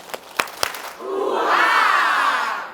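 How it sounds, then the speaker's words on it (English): At a live event, an audience gives a few sharp claps followed by a loud, sustained crowd chant of "ooh ah" that swells and fades. "Give me 2 beats, 2 claps, and ooh ah."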